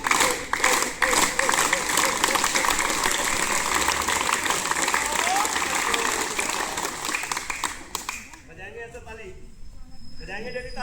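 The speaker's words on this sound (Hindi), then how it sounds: "सबकी ताली एक साथ बजेगी" Students at an inter college clap together in a fast, dense rhythm for several seconds, then the clapping stops abruptly; talking is heard throughout.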